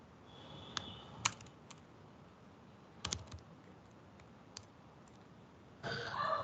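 Sparse, quiet keystrokes on a computer keyboard while code is written, a few isolated clicks spread out in a hushed room, ending in a short flurry of faster typing.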